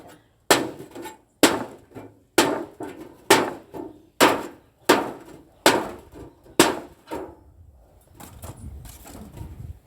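A knife punches holes in tin cans, giving eight sharp metallic strikes at a steady rhythm, each ringing briefly and decaying, followed by quieter rattling, close and loud.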